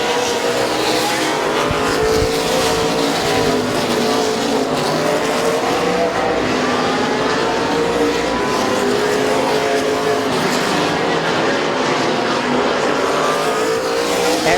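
Race cars circling the Midvale Speedway oval during a race, a dense, loud, sustained roar of multiple engines with shifting pitches and some tire squeal throughout.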